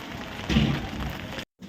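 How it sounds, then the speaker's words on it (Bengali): Steady rain patters down, heavier for a moment midway, then cuts to brief silence before a sharp close sound at the end. "আজকে বৃষ্টি পড়ছে"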